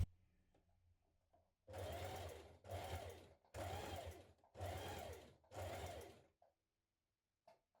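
A sewing machine stitches the centre front seam of a fabric teddy bear, running in five short bursts of about a second each with brief pauses between them, close and clear in a quiet room.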